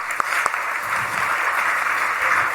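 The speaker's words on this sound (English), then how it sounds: "Please, you all can have a big round of applause for uncle." Audience at a temple gathering applauds a guest speaker, a steady wash of clapping from a crowd, fairly loud and close, with a couple of sharper individual claps near the start.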